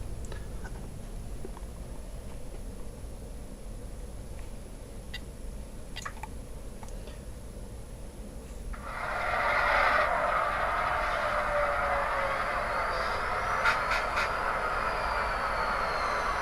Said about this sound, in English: I'll turn on a train for you